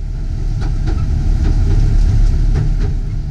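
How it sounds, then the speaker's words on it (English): The Southend Pier train, on the world's longest pleasure pier, rumbles along at about ten miles per hour, with steady low rolling noise and rhythmic clicks of wheels over rail joints, close and loud. "The trains travel at about 10 miles per hour, and the journey from one end of the pier to the other takes about 8 minutes."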